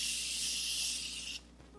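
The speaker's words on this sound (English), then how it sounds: "it comes out as a continuous spray" Morphe Continuous Setting Mist sprays in a long, steady hiss of fine mist lasting over a second, close and soft, then cutting off into quiet room tone.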